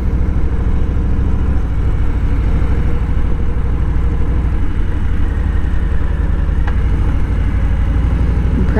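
A Harley-Davidson Low Rider motorcycle cruises slowly at about 20 to 30 mph in low gear on a scenic highway, its steady low engine rumble and wind noise continuous and close throughout.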